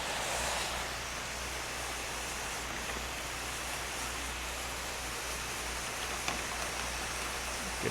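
A steady water spray hisses against vinyl siding beside a window and gutter, a constant broadband rush like heavy rain, fairly soft and unbroken for the whole stretch with no talk.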